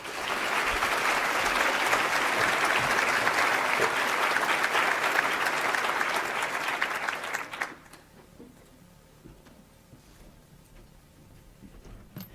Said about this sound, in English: please help me welcome Lisa Maatz to the stage